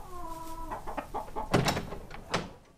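Hens on a farm cluck while being fed leftover food, giving a run of short, uneven clucks and squawks that rise in a couple of louder bursts, close by with no talking.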